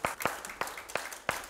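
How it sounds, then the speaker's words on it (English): A church congregation claps during an Easter Sunday service, a few sharp hand claps ringing out in an uneven rhythm rather than a full ovation, close and moderately loud in a reverberant room. "Give him a hand clap this morning."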